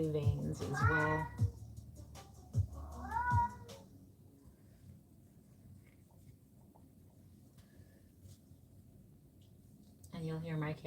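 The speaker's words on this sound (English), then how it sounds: "And you'll hear my cat yowling in the background." A pet cat indoors during a live painting session gives loud, drawn-out meows and yowls, close by, a couple in quick succession and then quiet before another call at the end.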